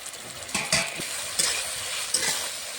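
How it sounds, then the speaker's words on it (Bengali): Spice paste sautéing in a pan for a Bengali potol posto dish, a steady sizzle with a few sharp scraping strokes of a spoon stirring through it, close and alone. "মশলাটা দিয়ে কষানো হয়ে গেছে"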